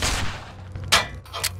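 Gunshots in the horror video game Cry of Fear: two sharp, loud bursts close together within a short stretch of low rumble, the first stronger than the second.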